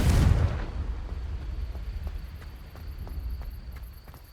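A Confringo fire spell blast in Hogwarts Legacy: one loud, close booming burst at the start that fades into a rumbling tail, with faint crackling and ticking afterward.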